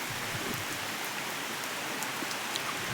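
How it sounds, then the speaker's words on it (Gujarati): Steady rain falls outdoors in a Gujarati village, a dense, even hiss of drops on surfaces with scattered louder patters, continuous throughout and fairly close, no voices. "ઝીમ રીમ ઝીમ રીમ ઝીમ રીમ ઝીમ વરસાદ વરસે."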